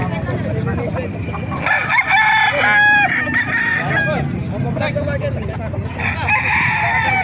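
A rooster crows among clucking chickens at a poultry market in Calumpit, Bulacan, with a busy background of voices and farmyard noise.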